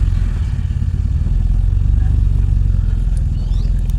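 A Toyota Great Corolla with a 4A-FE engine idles steadily after starting, a close, continuous low mechanical drone with a light clattering texture running the whole time.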